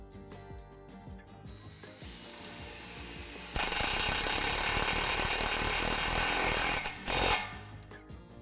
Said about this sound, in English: take a self-drilling screw and drill through the underlaying metal in the pole